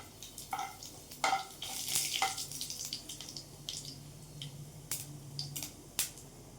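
Cumin and mustard seeds pop and splutter in hot oil, giving scattered sharp crackles and snaps over a soft sizzle, close and fairly loud.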